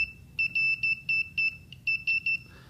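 A sharp electronic beep from a wire maze game circuit sounds repeatedly in short, uneven pulses, about eight in a row, clear and close over a faint low hum.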